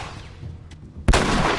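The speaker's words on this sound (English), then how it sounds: "we've got gunfire already." A single sharp gunshot from The Last of Us game cracks out abruptly and loud, followed by a sustained noisy rumble, after a quieter stretch of low background game ambience.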